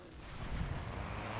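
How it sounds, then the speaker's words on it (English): Naval guns from a fleet of destroyers firing together in a World War II strategy game set during Operation Husky, a dense, continuous rumble of overlapping booms at steady volume with no distinct pauses. "as all the other guns start to join in at the same time here"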